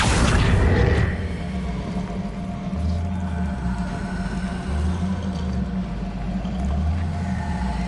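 A Bombarda blast spell goes off in Hogwarts Legacy, a loud booming burst at the very start that decays into a low rumbling tail beneath steady droning ambience.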